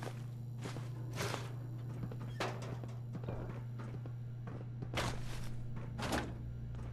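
In Fallout, an object thrown down stairs thumps and clatters several times in irregular knocks over a steady low hum.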